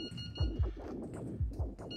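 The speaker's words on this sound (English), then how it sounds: "I sleep through my alarm." An alarm clock rings in the video game Into the Radius as a repeating pattern of high electronic beeps in pairs, with soft low thumps beneath and no talking.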